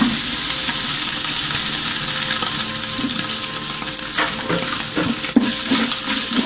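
Shredded chicken and cumin frying with onions in oil for chicken haleem, a loud steady hiss of sizzling throughout, broken by a few scrapes and one sharp clatter near the end, with no talking.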